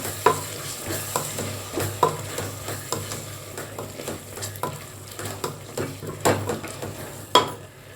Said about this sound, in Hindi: और दाल डाल रही हूँ, मूंग दाल।